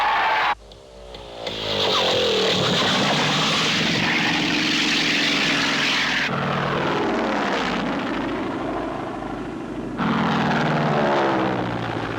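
A propeller airplane drones loudly, its engine note sweeping and shifting as it flies off, the sound continuous and close throughout.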